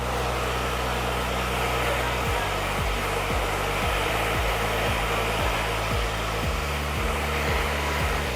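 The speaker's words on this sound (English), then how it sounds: "we can touch the hair a little bit while we're drying it and lift it up to push some air into the roots" A hair dryer runs steadily and close while drying curly hair, a constant loud whoosh with a low motor hum and periodic pitch dips as the airflow is moved around the head.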